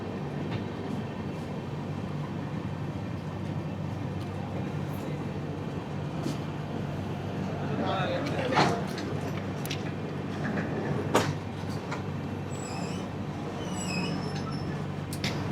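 Jan Shatabdi train rolling along near Igatpuri station, a steady loud rumble of wheels and carriage throughout, with a few sharper rattles and squeals midway and toward the end.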